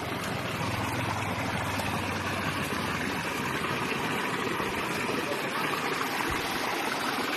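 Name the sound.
strong floodwater flowing after a landslide in rice field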